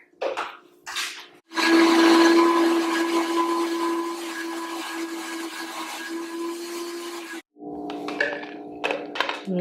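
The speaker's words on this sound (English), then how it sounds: "we're just gonna blend it up" A blender whirs loudly for several seconds blending avocado crema, with a steady motor whine, preceded and followed by short clunks and handling noises.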